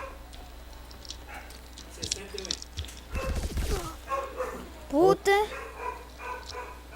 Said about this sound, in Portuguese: Meu Deus, meu cachorro tá latindo.